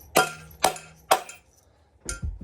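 Three sharp metallic hammer smacks on the case of a Stihl MS 460 chainsaw, evenly spaced and ringing briefly, then a duller knock and shuffle as the tool is handled; close and loud, with no talking.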